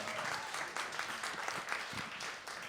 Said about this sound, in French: On peut applaudir l'autrice de ce texte, Dominique Boisvert.